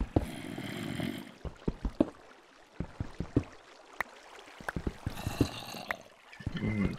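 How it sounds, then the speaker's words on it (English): Faint trickling water runs softly in the background of Minecraft hardcore mode, mixed with scattered clicks, scrapes and brief thuds of game sounds. "that nice little water running sound"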